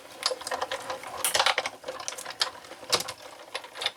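A Big Shot die-cutting machine with a framelit die cuts designer paper, giving a run of irregular clicking and clattering mechanical taps at close range, with no talking.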